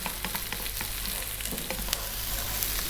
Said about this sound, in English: Keep it on a high heat, keep it moving for about 3 minutes